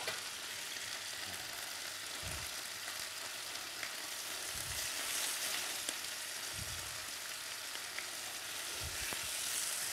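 Onions frying in a pan, a steady broadband sizzle held at an even level throughout, with a few soft low thumps from stirring and no talk.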